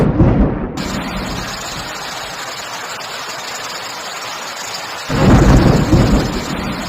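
Loud thunderstorm at sea, a continuous roar of wind and rain that swells into a heavy rumble near the end, with no voices.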